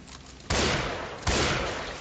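Gunfire in the zombie shooter Left 4 Dead 2: two sharp, loud bursts less than a second apart, each striking hard and then trailing off in a decaying rumble, with no voices.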